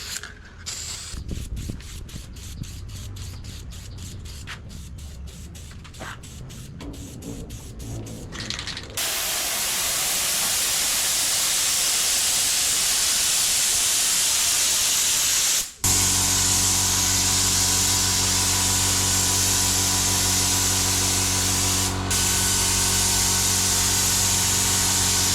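Primer coat being sprayed onto plastic and fiberglass: after some clicking and handling noises, a loud continuous hiss of spray runs steadily for the rest of the clip with one short break.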